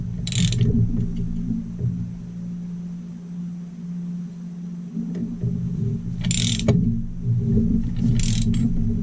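A hand ratchet cranks down large 1.125-inch nuts on a Stihl MS440 chainsaw during crank and bearing work, giving three short bursts of sharp clicking separated by quieter low mechanical hum, close by.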